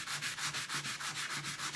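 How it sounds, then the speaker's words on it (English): Steady back-and-forth strokes of a sanding block rubbing drawer hardware flat, a close, even rasping rhythm of about seven strokes with no talking. "you just sand it down nice and flat"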